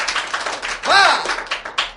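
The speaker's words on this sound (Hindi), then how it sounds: "सब लोग एक बार जोर से ताली बजाओ" A crowd at an outdoor street performer's show claps in scattered bursts, with a short whistle-like tone rising in the middle and voices talking over it.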